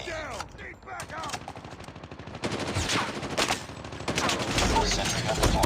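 Rapid bursts of machine gun fire in the mobile game Call of Duty Mobile, loud and close, building into sustained volleys toward the end amid other game sounds.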